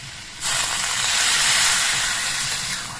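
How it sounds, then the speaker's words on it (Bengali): Broth poured into a pan of small khoira fish curry sets off a sudden loud sizzle and steamy hiss. It begins about half a second in and holds broad and strong before fading slightly. "এবার এর মধ্যে ঝোল দিয়ে দিচ্ছি"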